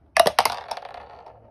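Three coins drop onto a hard surface in quick succession, sharp metallic clinks followed by a short ringing rattle as they settle, close and clear.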